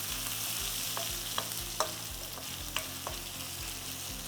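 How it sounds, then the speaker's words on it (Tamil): Food sizzles steadily in a pan while a utensil scrapes and stirs buttermilk ingredients together, with a few sharp clinks against the pan's side. "இப்போ எல்லா இன்க்ரீடியண்ட்டும் ஒன்றோட நல்லா கம்பைன் ஆகிற மாதிரி நல்லா கிளறி விட்டுக்கலாம்"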